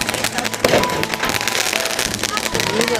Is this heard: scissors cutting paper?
no